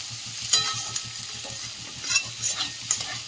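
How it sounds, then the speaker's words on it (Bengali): Carrots and beans frying with onion in a pan, a steady sizzle with a spatula stirring and scraping at an even rhythm close by, without any talking. "দিয়ে দিচ্ছি গাজর, আর এখানে দিয়ে দিচ্ছি বিনস, গাজর আর বিনস দিয়ে দিচ্ছি, দিয়ে এটা সবজিটা হালকা করে ভেজে নেবো।"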